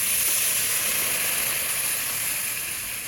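Water poured into a pan of frying crab curry at an outdoor picnic sets off a loud, steady hissing sizzle that eases slightly over a few seconds.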